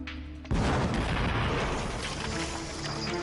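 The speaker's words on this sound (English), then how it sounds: "Again, the explosion rocks the quarry." A replica medieval bombard cannon fires in a quarry with a sudden loud boom, followed by a long, heavy rumble of the blast echoing and settling among the rock.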